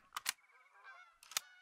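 Geese honking during a goose hunt in theHunter: Call of the Wild, a short burst of several loud nasal honks at close range, with no talk.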